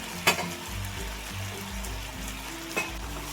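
Sago pearls tipped into a pan of partly softened potatoes frying in oil, giving a steady low sizzle with two brief sharp clatters as the pearls land and are stirred, close and moderately loud with no talk.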